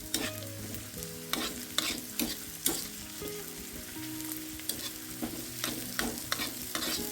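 Oysters fry on a tawa pan in a Kokani home kitchen, a steady close sizzle broken by regular scraping strokes of a spatula stirring them, with no one talking.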